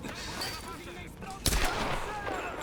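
A sharp gunshot in the video game Tomb Raider cracks once amid a constant bed of game noise and muffled sounds.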